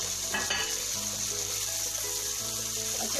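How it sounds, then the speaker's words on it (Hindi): Fried okra tossed into a hot pan of masala sizzles steadily while being stirred, a close, continuous frying hiss with light scraping of the spoon. "और अब इसके अंदर मैं फ्राई की हुई भिंडी ऐड कर दूंगी।"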